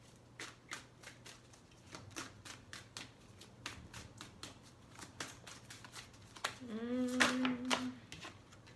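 Tarot cards are shuffled and laid down by hand in a quiet room, a run of crisp, sharp riffles and taps spaced unevenly, with a brief tonal scrape and rustle near the end.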